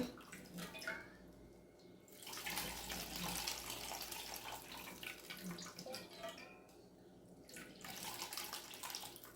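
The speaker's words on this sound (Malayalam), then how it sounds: "ഞാനിതൊരു അരിപ്പ വെച്ചിട്ടാണ് ഇപ്പോൾ ഈ പുളി പിഴിഞ്ഞൊഴിക്കുന്നത്." Tamarind pulp squeezed by hand through a strainer for Kottarakara puli, giving a steady watery trickle and splash with brief pauses and no talk.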